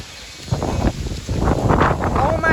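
Strong severe thunderstorm wind gusts of around 60 mph roaring in surging waves against the microphone, loud and close, with excited voices talking over them.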